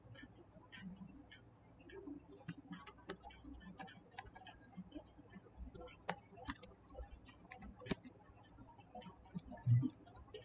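Soft, steady keystrokes on a computer keyboard as a Neo4j database query is typed, quiet irregular clicks continuing for about ten seconds with faint speech in the background.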